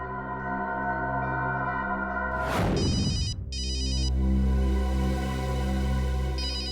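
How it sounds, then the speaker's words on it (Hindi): A mobile phone rings with a repeating electronic ringtone, loud and steady, briefly broken by a sharp whooshing sweep before the ringing resumes; no one speaks. "अननोन नंबर हो सकता है, ये अखिल का फोन है, उठाइए।"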